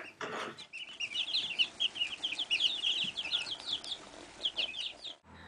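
Free range chickens kept on a farm cluck and chatter in a dense, continuous flock chorus, with many overlapping calls heard close by over a steady outdoor background.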